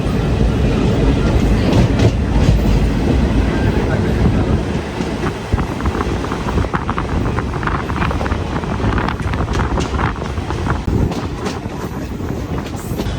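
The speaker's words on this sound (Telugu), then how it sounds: "సో ట్రైన్ అయితే బయలుదేరేసింది" Sapthagiri Express passenger train running from Tirupati toward Chennai, a loud steady rumble of wagons with rhythmic clickety-clack of wheels over rail joints and wind buffeting the microphone throughout.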